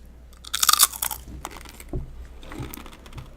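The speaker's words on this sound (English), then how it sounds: "cheesecake shouldn't be this crunchy, homie" Someone biting into and chewing a crunchy cheesecake, close crisp crunches in a quick cluster followed by quieter irregular chewing sounds.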